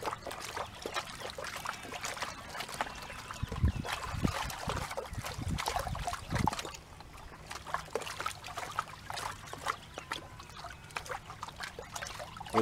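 Creek water sloshes and trickles as gold is panned in a small puddle beside the stream, with soft splashing bursts and swirling, quiet and close, without talking.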